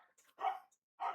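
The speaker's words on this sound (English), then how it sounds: "And obviously my dog is not very happy about it." A pet dog lets out two short, loud barks close by, separated by a brief pause, with faint yips in between and no talking.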